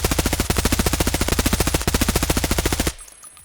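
Fully automatic fire from an HK assault rifle with a 40-round magazine in the game Escape From Tarkov: two long, rapid bursts of loud, evenly spaced shots with a brief gap between them, then the firing stops abruptly.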